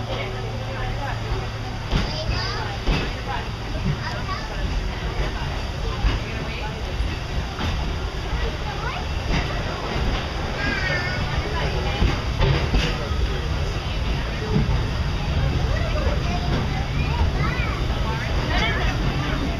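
A steam train at Disney's Magic Kingdom rumbles and clatters along continuously, with occasional squeals and rattles, while people talk in the background throughout.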